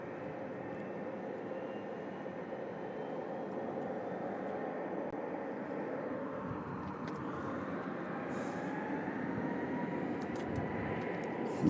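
A 30-year-old MD-11 jet at Louisville International Airport gives a steady distant engine rumble that slowly builds in pitch and loudness, with no talking.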